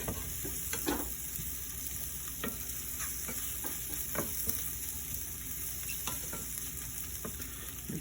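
Steady sizzle of mushrooms and onions frying in butter in a pan, with occasional scrapes and stirring clatters over the constant crackle.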